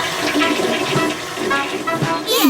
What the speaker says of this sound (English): Have you flushed?